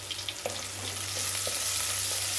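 Curry leaves fry and crackle in hot oil as they are stirred, an even close sizzle with a few soft pops over a low steady hum.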